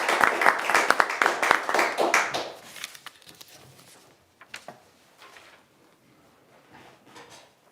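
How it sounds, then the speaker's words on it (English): Applause at a Brentwood meeting: a burst of close hand clapping for a few seconds that quickly fades to scattered claps and quiet room noise. "we applaud you"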